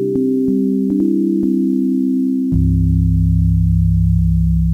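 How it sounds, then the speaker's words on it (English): A simple Third Wave synth patch, a filtered sine wave with a bit of white noise, sustains steady low tones for several seconds with faint clicks, then drops to a deeper held note, played alone with no talking. "It's basically just a simple sine wave with a bit of filtering and a bit of white noise."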